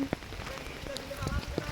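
Heavy rain falls on a flooded street, giving a brief, steady patter with a few sharper drop hits and faint voices in the background.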